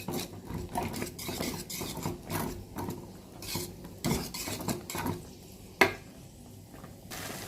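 Thick, lump-free kesari is stirred in a pan, the spoon scraping and clinking against the metal in repeated close strokes, with one sharper knock partway through.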